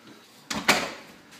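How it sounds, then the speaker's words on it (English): A house's front door being shut during puppy training, two quick close knocks of latch and frame in succession, fairly loud against a quiet room with no talking. "we close the door"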